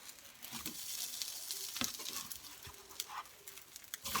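Leftover food fries in a pan with a steady, fairly faint sizzle, and occasional utensil scrapes and taps break through the hiss.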